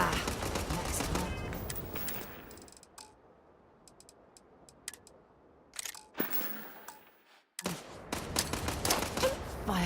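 Rapid bursts of gunfire from the video game Starfield crackle in loud, clipped volleys, then drop into a quiet gap before more sharp shots break out near the end.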